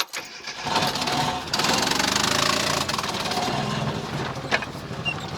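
An old Soviet-era car, a ZAZ Slavuta or Tavria, cranks and catches, its engine then running loud and rough with a steady knocking idle, close by, with no speech over it.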